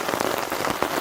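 Steady rain pours down on a campsite during solo camping, a close, dense, continuous patter of drops hitting surfaces with no voices.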